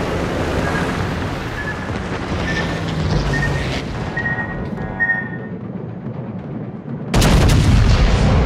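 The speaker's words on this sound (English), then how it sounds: "Anti-aircraft gun crews are on full alert." Anti-aircraft guns firing from a warship in the World of Warships game, rapid repeated pops and booms over a steady roar of wind and sea, ending in a louder sustained burst.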